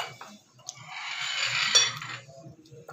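Flour and baking powder are stirred together in a bowl for jalebi batter, a soft scraping swirl with light clinks of a spoon against the bowl, close and fairly quiet.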